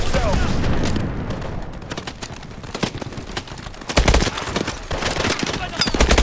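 Call of Duty: Advanced Warfare battle with rapid machine-gun bursts, scattered gunshots and heavier booming blasts going off close and loud, under shouting game voices.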